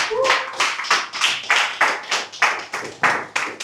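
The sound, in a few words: audience clapping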